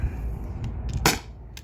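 A T4E HDP50 CO2 pistol fires a single sharp, short crack amid low background rumble, followed by a faint second click.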